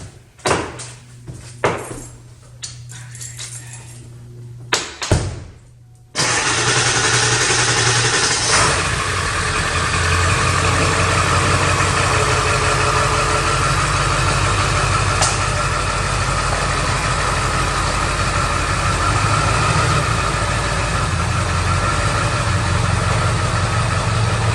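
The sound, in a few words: 2002 Ford F250 Powerstroke diesel engine starting and idling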